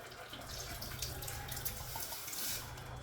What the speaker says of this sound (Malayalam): നേരത്തെ വേവിച്ച് വെച്ച പരിപ്പ് ഇതിലേക്ക് ഒഴിക്കാം.